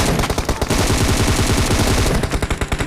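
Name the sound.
M4 rifle gunfire in the video game PUBG Mobile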